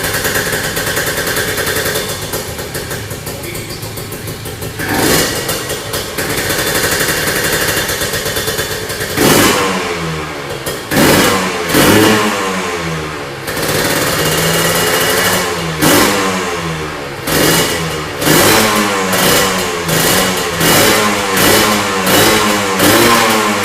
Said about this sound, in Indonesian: Kita tes dengar suaranya motor ini seperti apa sih.